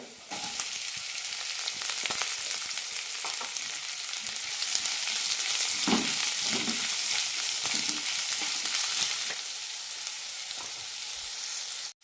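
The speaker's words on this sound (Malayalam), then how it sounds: "ലോ ഫ്ലെയിമിലിട്ട് വഴറ്റിയെടുക്കാം" Sliced onions with chopped garlic sautéing on low flame in a pan, a steady bright sizzle throughout with occasional stirring scrapes, close and continuous.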